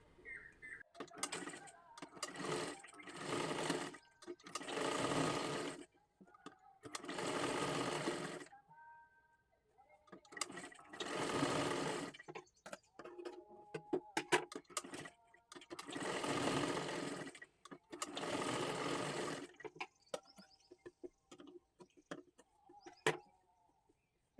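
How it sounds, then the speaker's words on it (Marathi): Sewing machine running in repeated bursts of several seconds each, double stitching the shoulder seam of a girl's lehenga dress made from a bordered saree, with short pauses and handling noises between runs. "दोन्ही सुद्धा आपल्याला शोल्डर जोडून घ्यायचं आहे आणि डबल शिलाई मारून घ्यायची आहे"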